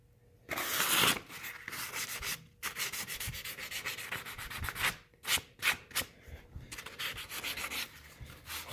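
Paint is lightly scraped from a chalk elk antler shed in a run of short, dry rasping strokes, close and fairly quiet, separated by brief pauses.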